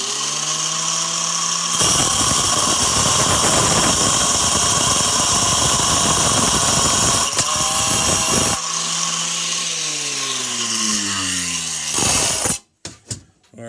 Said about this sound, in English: Basically, I'm cutting the threads off it is what I'm doing.